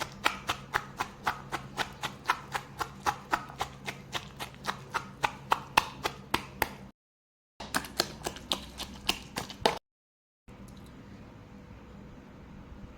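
Spoon mashing fruit such as grapes in a bowl, a steady run of quick, sharp, evenly spaced taps and squishes, close and clear, with brief pauses between bursts.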